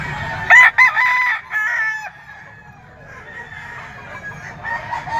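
A young rooster (stag) of a Simstone bloodline at a Sunday poultry market crows loudly and close, then gives softer intermittent clucks against low background noise.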